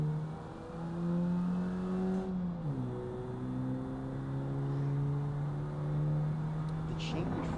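A Volkswagen Gol GT with the AP engine revs in the BeamNG Drive driving game. The engine holds a steady, loud drone, drops sharply in pitch as if shifting, then climbs and holds again.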